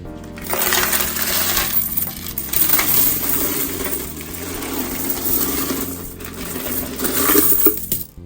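A jar of mixed coins (pennies, dimes, nickels, quarters and gold dollar coins) is dumped out, producing a continuous, loud metallic jangling and clinking cascade that surges and settles over several seconds.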